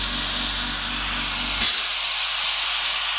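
An airbrush sprays paint onto a moonlit ship artwork as a steady, loud, close hiss. A low mechanical hum runs underneath for the first half, then drops away while the hissing continues alone.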